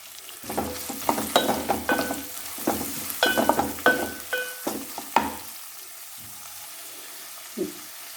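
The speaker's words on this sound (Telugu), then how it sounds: "రొయ్యలు కాస్త వేగిన తర్వాత ఉల్లిపాయలు వేసుకోండి." Prawns frying in a pan with curry leaves, then onions added, heard as bursts of sizzling and clattering stirs in the first half that thin out to quieter scattered sounds, close and with no voice over it.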